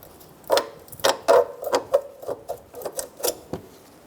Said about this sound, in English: We're going to remove the brake hose holding shim. I'm going to use a pair of pliers.